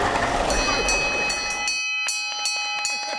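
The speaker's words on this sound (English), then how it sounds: "That bell signifies the completion of a patient's fractionated course of radiation therapy." A hand bell rung by a patient marking the end of proton radiation therapy, struck repeatedly in a quick series of bright, ringing strokes, loud and close over a brief noisy background before the tones stand alone.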